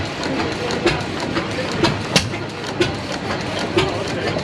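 A circa-1916 hit-and-miss engine runs nearby, giving a steady mechanical chug with sharp periodic firing pops about once a second over a continuous rumble, while voices talk faintly in the background.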